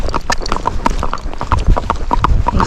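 A Rocky Mountain gaited horse with a trotty gait is ridden, its hooves striking in a quick, steady clip-clop that sounds close and loud.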